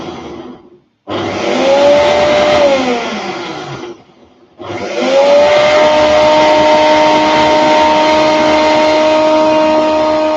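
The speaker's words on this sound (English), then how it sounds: "I'm going to blend it." Kitchen blender mixes thick chocolate brownie batter with a loud, steady motor whine. It runs for a few seconds, stops briefly, then starts again and keeps running.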